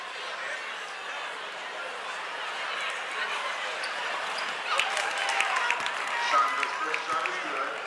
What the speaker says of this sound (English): You hear some of the crowd here